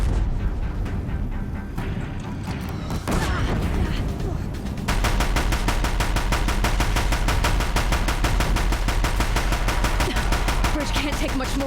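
Deathbringers in a video game pounding a bridge with rapid gunfire, dense continuous bursts that grow louder and steadier midway, with brief talk near the start.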